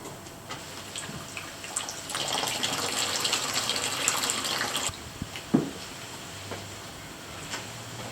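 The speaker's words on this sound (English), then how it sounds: "hit the drain plug and see how much water comes out" Meltwater runs out of the drain plug of a Yeti V Series cooler, a close steady trickle and splash for a few seconds that then stops, leaving a few faint drips and small knocks.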